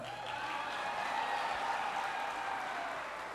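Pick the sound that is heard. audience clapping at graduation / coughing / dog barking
audience clapping at graduation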